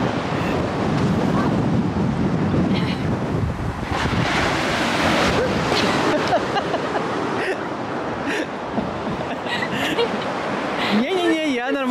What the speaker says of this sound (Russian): И волны такие большие.